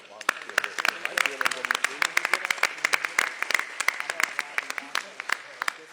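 Audience clapping fills a city council meeting held in a sanctuary space: a dense, steady patter of many hands that continues throughout, with voices talking over it.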